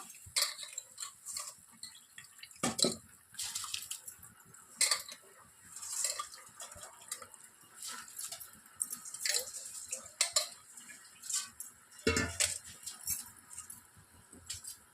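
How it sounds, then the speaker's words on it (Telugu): Washed rice tipped into a pot of boiling water on the stove, heard as scattered clinks and clatters of a metal pot and utensils with soft watery splashes, fairly close and without talk. "ఇప్పుడు కడిగి పెట్టుకున్నటువంటి రైస్ని ఇందులోనికి వేసేస్తున్నాను"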